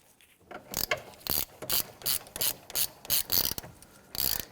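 A ratchet clicks in quick bursts, about a dozen short strokes, while snugging down the battery hold-down clamp on a Kia Sorento; the sound is close and clear with no talking.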